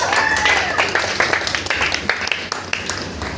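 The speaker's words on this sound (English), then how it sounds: "Miss Payal, let's clap for Payal." A small group at a party claps for an award winner, with uneven bursts of handclaps mixed with chatter and raised voices.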